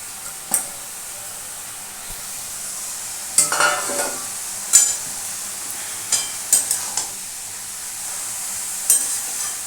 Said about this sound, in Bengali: এইটা গাজর যেটা সেদ্ধ করে গেছি, গাজর, কড়াইশুঁটি আর সুইট কর্ন, এগুলোকে আমি এর মধ্যে ঢেলে দেবো।